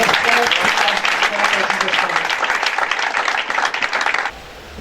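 A church congregation applauding Jesus, a dense, loud burst of many hands clapping together under spoken voices, sustained for about four seconds before cutting off abruptly.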